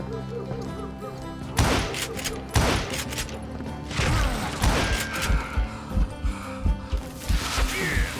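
Gunfire in the Western video game Call of Juarez Gunslinger, a rapid run of loud sharp shots and impacts at irregular intervals over a steady game soundscape.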